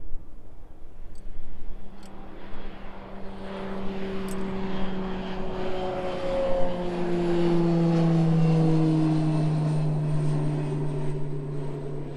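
A Beechcraft King Air turboprop departs at East Midlands Airport, its propeller drone rising in pitch and swelling as it passes fairly close, with a few faint clicks early on.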